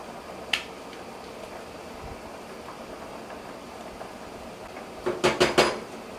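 Utensil clinks against a cooking pot while scallion, thyme and black pepper are stirred in for jerk chicken, one sharp tap early then a quick cluster of metallic scrapes and knocks near the end over a quiet background.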